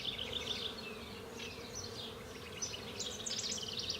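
Honeybees buzz continuously around an opened hive with drones and fresh comb, a dense droning hum with individual bees whining past close by, rising and falling, with no voices.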